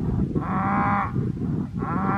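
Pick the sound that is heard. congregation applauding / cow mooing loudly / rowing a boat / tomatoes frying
cow mooing loudly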